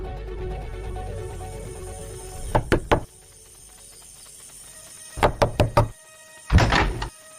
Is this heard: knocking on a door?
yes